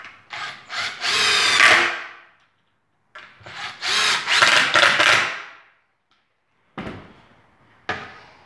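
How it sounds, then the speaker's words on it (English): A power driver runs screws into a wooden sawhorse in two long whirring bursts separated by a pause, followed by two short clicks at the end, close and loud with no talking. "I can drive the screws."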